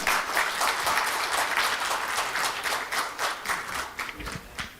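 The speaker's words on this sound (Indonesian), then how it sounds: "Tepuk tangan" Audience applause at a formal gathering, a dense, steady burst of many hands clapping for nearly five seconds, loud and close, fading slightly toward the end.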